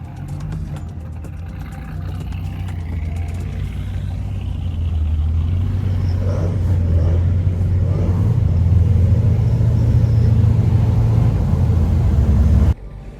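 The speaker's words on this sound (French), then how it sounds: "il y a toutes les voitures qui sont en train de se mettre en ordre de marche" Classic rally cars, among them a Mercedes 280 SL R107, setting off near Nice toward the Col de Turini: a steady low engine rumble that swells gradually and stops abruptly at the end.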